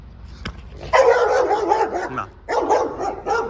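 A household dog barks and yips excitedly at its owner, a few loud close barks with whimpering in between, in two bursts separated by a short pause, with no voices.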